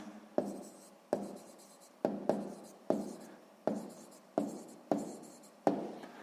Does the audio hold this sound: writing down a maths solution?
yes